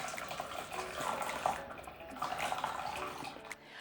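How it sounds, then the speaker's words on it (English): Liquid almond milk streams and trickles through a nut milk bag into a large bowl, a steady close splashing with a few drips, no talk. "Let's pour everything into the nut milk bag"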